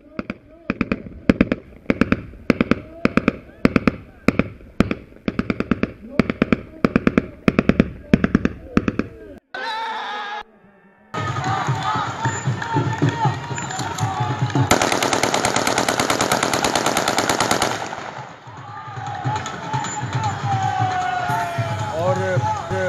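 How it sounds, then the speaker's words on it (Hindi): Gunfire during an election campaign in Punjab: a rapid run of loud, sharp shots in quick bursts, then a brief pause followed by a dense, continuous crackle of firing and crowd noise. "फायरिंग बहुत हो रही है"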